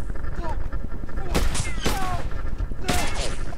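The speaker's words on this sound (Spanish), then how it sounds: "Son disparos. Suena a disparos." A few sharp video-game gunshot bursts crack out over a steady background of music and game noise, spaced unevenly across the clip.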